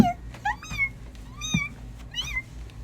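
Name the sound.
cat meowing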